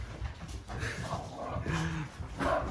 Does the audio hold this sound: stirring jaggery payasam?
no